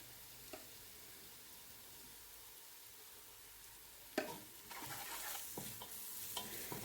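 Frying onions in a pan for chicken curry get ginger garlic paste and turmeric stirred in. A quiet sizzle gives way to louder scraping and clanking strokes of a spoon against the pan.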